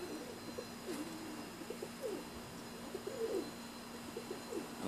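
Pigeons cooing near a loft, with repeated soft low coos close by over a steady background hum and a few faint higher chirps.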